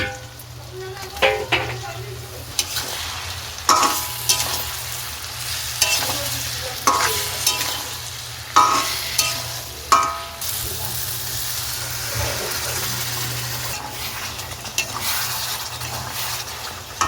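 Potatoes fry in hot oil in a home kitchen pan, sizzling steadily beneath repeated scraping strokes of a spatula stirring them, the stirs coming in irregular bursts over a constant low hum.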